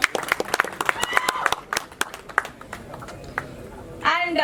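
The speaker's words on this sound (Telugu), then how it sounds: "ఒకసారి గట్టిగా చప్పట్లు." An audience at a stage event for a devotional song launch claps in a scattered burst of applause that fades after a few seconds. A voice speaks over a microphone afterward.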